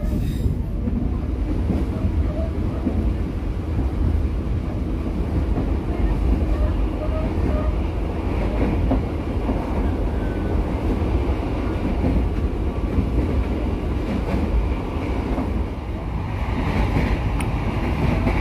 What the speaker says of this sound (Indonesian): kereta baju biru ini adalah kereta baru yang diluncurkan di GAPEKA 2023